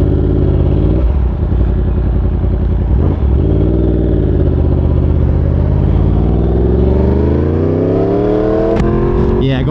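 A Yamaha R1 sport motorcycle runs at speed on a highway while racing a Mustang. The engine drone holds steady and loud, then revs climb near the end under heavy wind rush. A voice speaks briefly over it.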